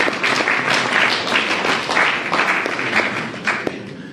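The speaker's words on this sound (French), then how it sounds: "Là, vous pouvez applaudir quand même." An audience at a talk on schools claps, steady moderately loud applause with individual claps standing out.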